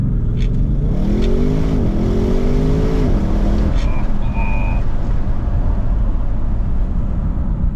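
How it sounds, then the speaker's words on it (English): An Audi RS 6 wagon with its windows down revs and accelerates hard, a loud engine rising in pitch then shifting, heard from inside the car and filling the whole clip. "let's just put the windows down and accelerate a little bit hard out of here"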